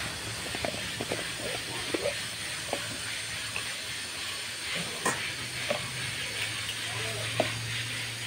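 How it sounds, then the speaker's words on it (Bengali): Whole cumin seeds sizzle in hot oil for a tempering, a continuous soft hiss with a few faint pops and clicks scattered through it, steady and fairly quiet from start to end. "কটা কাঁচা জিরে ফোড়নে দিলাম"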